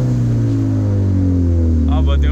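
Turbocharged Toyota Corolla XRS engine idling close by, a loud, steady low drone with firm harmonic hum, with a brief higher whine near the end.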